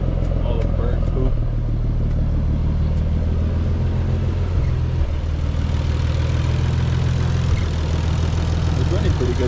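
A 1991 Nissan 300ZX twin turbo engine runs steadily, a deep, loud, close rumble with a fairly even idle throughout and slight changes in pitch, with a voice speaking over it.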